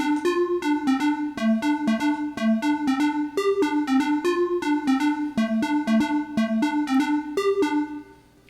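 The bright synth lead from a song, programmed on an ASM Hydrasynth, plays a bouncy staccato melody of short plucky notes in a steady fast rhythm, clear and alone.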